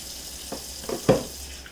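Tap water running while hands are washed with soap in a home kitchen during chicken preparation, heard as a few short, soft splashes and trickles.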